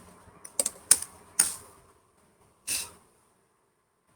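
A computer keyboard is typed in a few quick, crisp key presses, close and loud, then a short pause and one more brief burst, with near silence between.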